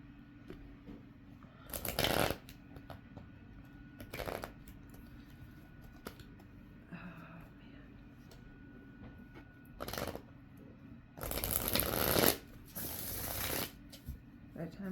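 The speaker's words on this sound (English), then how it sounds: "Okay, one more shuffle and then we'll cut the deck." Tarot cards being shuffled by hand in several short riffling bursts, close and crisp, separated by quiet pauses with faint handling noises, the longest burst near the end.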